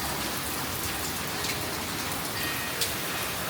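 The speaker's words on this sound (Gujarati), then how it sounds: "પણ હવે મસ્ત વરસાદ આવ્યો છે." Heavy rain pours down in a dense, steady hiss that stays constant throughout, close and fairly loud.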